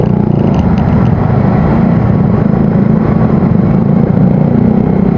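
Loud, steady rumble of a motorcycle with an aftermarket exhaust, held at a constant drone close to the listener for several seconds with no talking.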